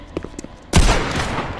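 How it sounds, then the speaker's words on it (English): A single loud, close gunshot in a tense murder video game cracks out after quiet scattered sounds, and its boom rings and decays for about a second. "the gunshot scared the living hell out of me"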